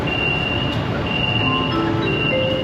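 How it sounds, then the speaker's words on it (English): A metro train running toward the airport in a Chinese city gives a steady loud rumble, with faint high-pitched wheel and motor whines rising and falling, and no voices. "this metro is just so brand new and clean"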